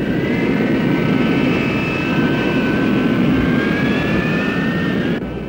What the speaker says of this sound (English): North American F-100 Super Sabres, designed 17 years earlier, leave their protective revetments on an attack mission with GP bombs